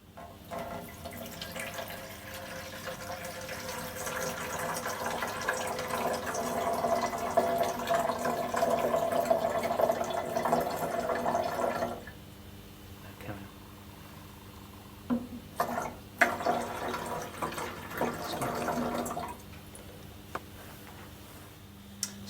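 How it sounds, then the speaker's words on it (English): Sterile water runs into a chest drain bottle, a steady pouring and filling wash for about twelve seconds that then stops, followed by quieter handling sounds and a few clicks. "The bottle needs to be filled to the mark with sterile water."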